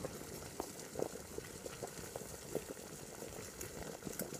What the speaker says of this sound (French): je fais bouillir ma soupe après